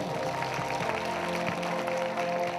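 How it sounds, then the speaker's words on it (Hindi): A congregation at a Hindi-language prayer meeting claps steadily, a continuous wash of applause mixed with music and faint voices underneath. "जोरदार ताली दे परमेश्वर।"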